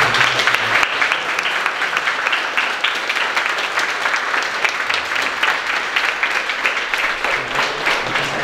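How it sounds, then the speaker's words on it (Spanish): Loud, dense applause from a church congregation after a quinceañera mass in San Fernando, Tamaulipas, filling the whole stretch without a break and with no talk over it. "Pues denle un aplauso muy fuerte a María."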